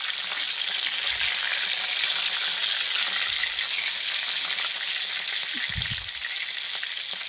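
Chicken tikka pieces frying in a pan, a steady close hiss of sizzling oil that runs without pause, with a few soft low knocks from the pan.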